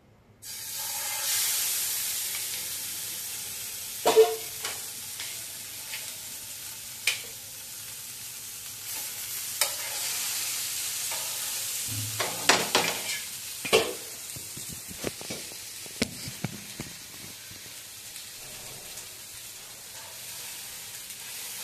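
Fish pieces fry in oil on a dosa pan with a steady, soft sizzle and hiss, broken by occasional sharp clinks and scrapes as the pieces are placed and moved.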